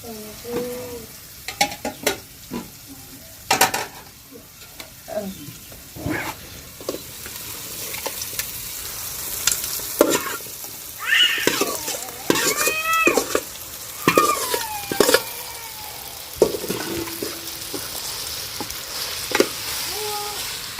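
Marinated chicken hits a hot pan and sizzles loudly while a spoon scrapes and stirs in uneven bursts, with a cat meowing several times and occasional clinks of cookware.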